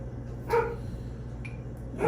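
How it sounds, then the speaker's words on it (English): A dog barks outside, two or three short muffled woofs heard at a distance over a steady low room hum. "As we'll listen to Yuki bark out there and whatever's going on."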